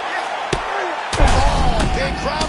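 Punches and kicks land in the EA UFC 6 fighting game, with sharp slam-like impacts at about half a second and just past one second, followed by dense crowd roar and noise, with voices mixed in.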